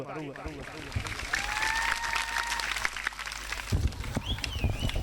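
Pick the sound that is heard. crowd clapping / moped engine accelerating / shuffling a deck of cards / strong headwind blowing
crowd clapping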